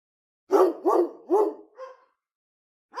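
A cartoon dog barks four times in quick succession, loud and close, then pauses before starting another bark.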